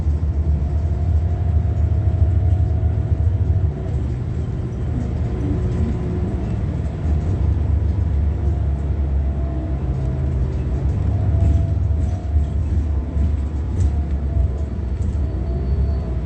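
Steady low rumble of a city bus interior in Ontario, heard from inside while riding, with continuous engine drone, road noise and faint rattles throughout, no clear talk.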